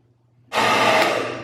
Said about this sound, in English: You can also get a blow dryer and it'll dry a lot faster.